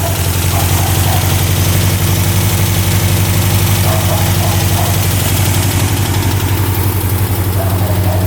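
A 1967 Volkswagen Dune Buggy engine idles steadily while warming up, with a loud, continuous low rumble and a faint knocking pulse, close to the listener and uninterrupted throughout.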